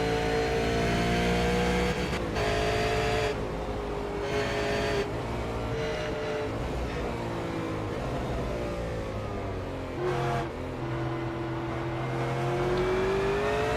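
A V8 Supercar engine screams onboard around a lap of Sonoma, loud and close, rising in pitch through the gears with sharp drops at upshifts and a steady high whine.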